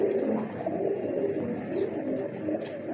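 Wild pigeons coo at a pigeon-keeping setup in soft, low, rolling murmurs that overlap steadily, close by, with a faint higher chirp near the end.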